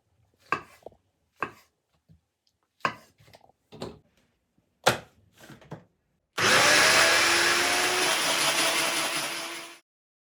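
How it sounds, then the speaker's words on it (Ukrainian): Several sharp knocks and taps, then a loud blender whirs steadily for a few seconds chopping mushrooms for duxelles before cutting off. "Потрібно їх подрібнити в блендері."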